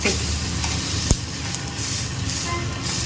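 An oats omelette sizzles steadily in a hot pan while it is turned without a plate. The frying hiss is close and continuous, with a single sharp knock about a third of the way through.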